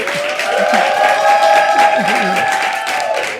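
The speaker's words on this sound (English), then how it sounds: "A round of applause for Ben" Loud studio audience applause and cheering for a guest on a comedy news show, a continuous crowd roar with voices and a sustained tone mixed in, tapering slightly at the close.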